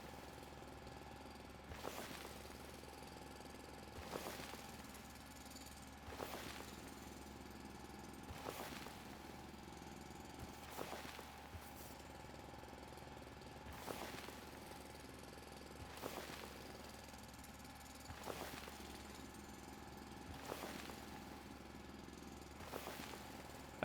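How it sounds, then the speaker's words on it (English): A mining drill in the video game Foundry runs steadily, giving a continuous mechanical hum. Sharp impact bursts repeat about every two seconds with no talk. "this drill doesn't have like fuel or durability"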